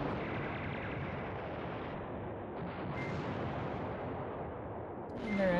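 French and German tanks fire in the Command Ops 2 war game at Hannut, a continuous rumbling barrage of booming shots and distant explosions with a louder swell near the end.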